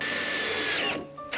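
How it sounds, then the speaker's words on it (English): A power drill bores a hole through cabinet material for a router bit during van lower cabinet building, a steady close whirring whine that cuts off near the end, then briefly restarts. "So first I'm going to drill a hole for the router to get down into."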